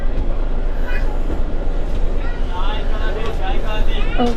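A train rolls along, heard from inside a passenger carriage as a steady, dense rumble and rattle, with faint voices carrying beneath the noise.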